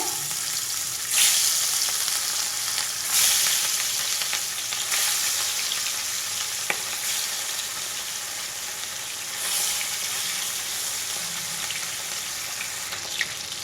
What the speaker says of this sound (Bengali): বাকি মাছগুলো একইভাবেই ভেজে নেব।